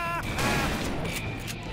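Shotgun fire in the Western shooter Call of Juarez: Bound in Blood, loud and dense with blasts and battle noise running across the whole moment, with some game voice mixed in.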